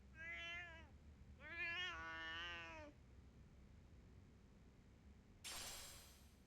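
A cat meows twice in the video game Lost Judgment: a short meow, then a longer, drawn-out one, clear and close over a quiet background, followed by a brief soft rustling burst.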